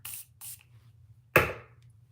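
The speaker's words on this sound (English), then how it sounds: "I'm going to use the water and our spray, the setting spray on there" Two short airy hisses of a makeup setting spray bottle, then a sharp wet burst that fades out, over a steady low hum.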